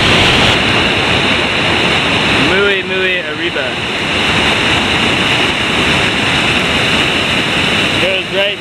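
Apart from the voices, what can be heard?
waterfall in a Costa Rica canyon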